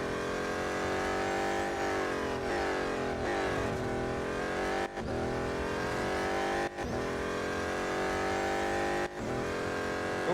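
The BMW M Hybrid V8 race car in Real Racing 3 screams at high revs, its engine note rising and falling through gear changes in a continuous loud whine without talk.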